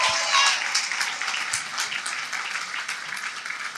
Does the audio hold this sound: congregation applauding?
yes